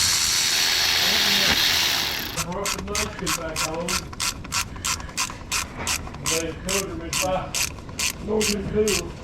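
A hand ratchet clicks in a steady, close rhythm while tightening an oil cooler bolt on a Ford F-250 Super Duty with the 7.3 PowerStroke. Around twenty sharp strokes follow a short stretch of broad background noise.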